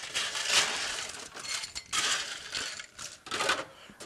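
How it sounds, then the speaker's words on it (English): Ice cubes rattle and clink as they are dropped into a tall glass for a Singapore Sling, a run of bright, close crunching and clattering bursts in uneven clusters, with no talk. "I'm going to go ahead and start by filling this glass with ice."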